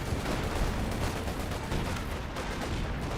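Constant gunfire and heavy explosive booms from a battle in the Company of Heroes 2 video game, including a tank's main gun, forming a loud dense wash of combat noise with no pauses.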